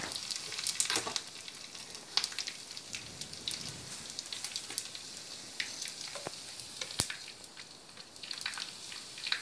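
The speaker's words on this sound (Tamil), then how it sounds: "பாருங்கள் பூண்டு வறுத்துட்டு இருக்கு பூண்டு வறுத்துட்டு இருக்குது" Garlic frying in a pan for Karnataka-style bisibelebath, a continuous crackling sizzle with sharp pops scattered throughout, fairly quiet and close, no talk.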